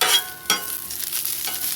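Onions sauté on a Blackstone 22-inch griddle, a steady close sizzle with a couple of brief louder crackles, with no voices.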